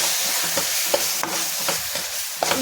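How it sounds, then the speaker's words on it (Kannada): Garam masala sizzles in hot oil in a pan, a close, steady frying hiss broken by soft scraping taps as the spices are stirred. "ಸ್ವಲ್ಪ ಗರಂ ಮಸಾಲೆ ಇಷ್ಟು ಹಾಕಿ ಫ್ರೈ ಮಾಡಿ"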